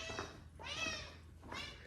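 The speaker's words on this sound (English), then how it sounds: "There's the little cat." A small cat meows in short, high, wavering cries, three separate calls spaced apart, heard close but quiet outdoors during a walk.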